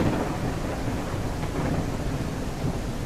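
Heavy rain with rolling thunder in the survival game Mist Survival, a dense steady roar of downpour and low rumble filling the whole stretch, loud and close, with no talking.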